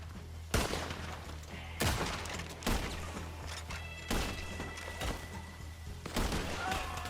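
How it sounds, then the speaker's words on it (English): Red Dead Redemption 2 gunfire crashes out as loud, repeated single shots spaced about a second apart, each ringing on over a constant low rumble, with no talk. "Shoot him again!"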